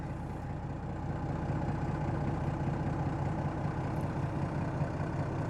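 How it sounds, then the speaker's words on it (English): A 1992 Dodge Ram D250 pickup with a dealer-installed Banks PowerPack idles steadily just after a cold start, a constant low engine rumble close by with no talking. "Fires right up. And you can see it is a cold start."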